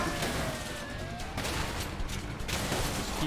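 Gunfire in the video game A Way Out, a dense run of shots and bursts over layered game noise, loud and continuous throughout.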